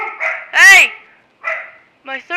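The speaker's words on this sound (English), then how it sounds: "Sorry about my dog." A pet dog barks several times at close range, loud sharp yips in short bursts separated by brief pauses, heard indoors.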